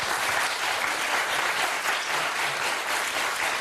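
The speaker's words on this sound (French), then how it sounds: "Il y a eu des applaudissements comme ça." A crowd claps continuously, a moderately loud, even wash of applause that holds steady for a few seconds.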